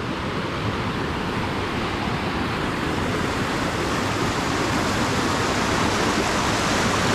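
Water rushing through the old mill canals in Jajce, Bosnia, feeding the watermills and flowing on toward the small Pliva lake; a steady, loud, even roar of flowing water with no voices.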